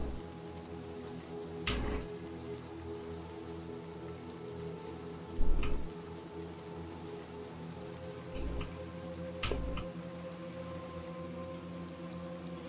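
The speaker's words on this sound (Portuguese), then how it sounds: "Ainda está chovendo pra dedéu." Steady rain patter with occasional louder drops and soft thumps, a continuous wet hiss with no voices.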